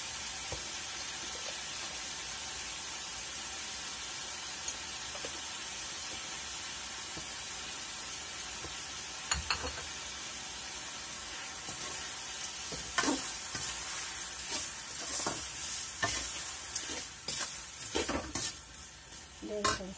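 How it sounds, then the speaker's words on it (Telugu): Tomatoes fry in oil for a brinjal curry, a loud continuous hiss and sizzle that runs throughout, with clattering spoon stirs growing more frequent in the second half. "ఇప్పుడు టమాటాలు కూడా వేగిపోయాయి బాగా రుచి పిచ్చిగా."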